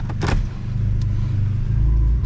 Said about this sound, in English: straight pipe exhaust straight from the factory. Very, very aggressive, very, very loud, lots of pops and gurgles.